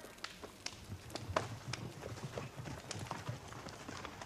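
Horses' hooves clip-clop in a quick uneven patter at a moderate distance, several animals moving together, fairly quiet.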